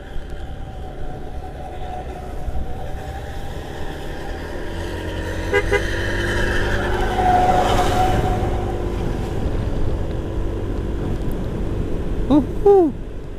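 Vehicle cruising at about 52 km/h along the busy Trans Sulawesi road, a steady broadband road and engine roar throughout, with a brief horn toot near the end.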